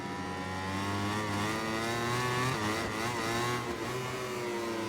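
A MotoGP 21 video game motorcycle engine revs and drones continuously over a bumpy surface, its pitch rising and dipping slightly as the throttle changes, steady and fairly loud throughout.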